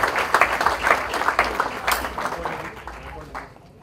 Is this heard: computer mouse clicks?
no